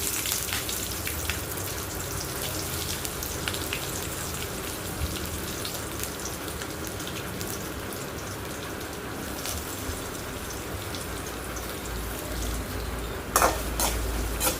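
Sliced onion fries in oil with cinnamon and cloves, a continuous close sizzle with scattered crackles and a brief scrape of stirring near the end.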